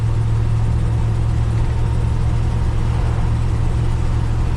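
Engine of a 1968 Ford F100 pickup running with its timing slightly off, a loud, steady low rumble with a droning hum, close and unbroken throughout, no voices.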